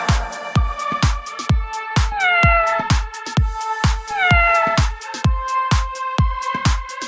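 A cat meows twice, each call clear and close with a falling pitch, set over a steady, bouncy percussion beat from a children's learning song.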